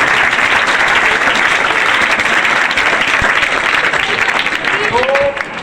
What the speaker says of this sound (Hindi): एक बार जोरदार ताली बजा के हंस के दिखाओ